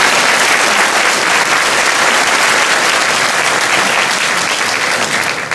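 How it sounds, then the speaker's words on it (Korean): A lecture audience breaks into loud, dense applause, a sustained wash of many hands clapping close and even throughout, tapering only slightly at the end. "박수 한번 칩시다."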